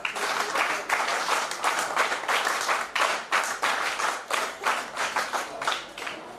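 Students in a hall doing the rhythmic NSS clap at a youth parliament gathering, many hands striking together in regular patterned bursts, steady and fairly loud with a slight tail of scattered claps.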